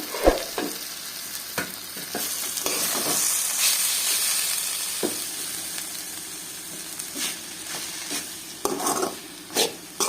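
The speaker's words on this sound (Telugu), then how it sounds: "మనం ఉడికించుకున్న తోటకూర వేసేస్తున్నాము." Boiled amaranth leaves tossed into a hot pan sizzle and hiss steadily, with repeated scraping stirs and utensil clinks against the pan, close and alone.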